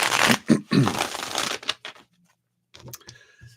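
Tarot cards are shuffled in quick riffling bursts close by, followed by a brief silence and a few light handling sounds.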